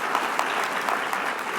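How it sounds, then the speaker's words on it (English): Conference audience applauding in a large hall, a dense steady wash of many hands clapping at even loudness throughout, with no voices over it. "Let's have a round of applause for Ann."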